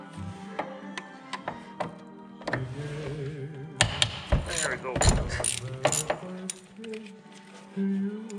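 A socket wrench works on the EGR valve bolts of a Smart Car, giving scattered close metallic ratchet clicks, clinks and taps against the engine, with a brief voice in places.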